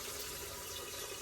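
Water pours and splashes while stone mushrooms are cleaned, a short soft running trickle that ends in a brief louder splash.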